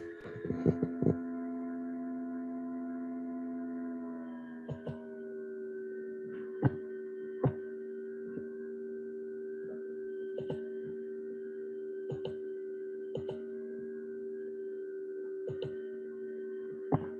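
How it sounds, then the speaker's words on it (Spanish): A computer cooling fan runs with a steady tonal hum throughout, its pitch stepping down after a few seconds, while faint clicks and taps occur at irregular intervals; no one talks. "se volvió a prender el ventilador"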